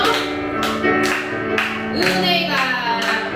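Congregation in a church Sunday service clapping in rhythm while singing praise, steady regular claps under loud sung voices.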